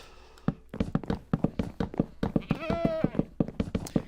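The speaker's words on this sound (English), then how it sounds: "Got goats, got a little baby chicken running around." Goats bleating in the Minecraft video game, a series of short, evenly spaced tapping sounds with one longer wavering bleat midway, close and fairly loud, no talking.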